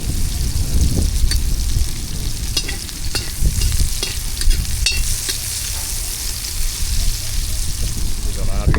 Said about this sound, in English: We're gonna add the onions now. Let that saute for 50 seconds.